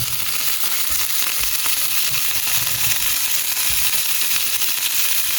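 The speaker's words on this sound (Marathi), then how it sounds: "तर तेल हा पळय बरें गरम जाला आनी आतां हितून सोडटा आमची फीश." Fish frying in hot oil, a dense steady sizzle with crackling pops that holds at even loudness throughout, with no voices.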